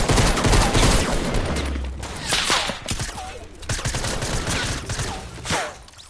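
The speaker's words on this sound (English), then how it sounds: "Somebody else is shooting at you" Fortnite Battle Royale gunfire, a flurry of shots at close to mid range that rises and falls in bursts, growing sparser toward the end.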